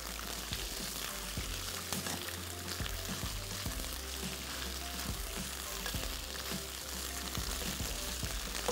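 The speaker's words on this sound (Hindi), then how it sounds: "अदरक लहसुन शामिल करके थोड़ा सा इसको मज़ीद फ्राई करेंगे" Meat frying with ginger garlic paste in a pot, a steady loud sizzle broken by occasional scrapes and knocks from stirring, close by and with no talking.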